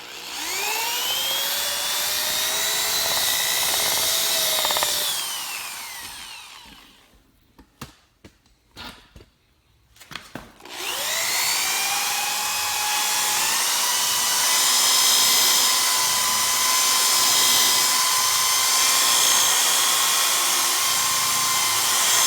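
A power drill with a buffing pad polishing a car headlight with Mothers aluminum wheel polish whines at high speed, spinning down to near silence with a few knocks, then revving back up to a steady loud whir.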